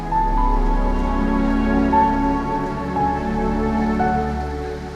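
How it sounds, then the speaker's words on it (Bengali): Heavy rain falling, a loud, continuous, close wash of rain with no voices. "ভালোই বৃষ্টি পড়তেছে"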